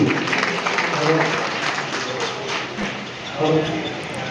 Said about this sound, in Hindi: जोरदार तालियां एक बार सूरज जी के लिए।